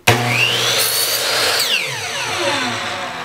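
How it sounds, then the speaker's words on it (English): A miter saw cuts reclaimed wood for an accent wall: the motor whines up sharply, the blade bites through the board for a couple of seconds, then the pitch winds down, loud and close with no talking. "sometimes you're gonna need your miter saw to cut your piece to size"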